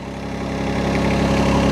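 A mini excavator engine idling at low revs, a steady close diesel rumble with an even pulsing beat and no voices.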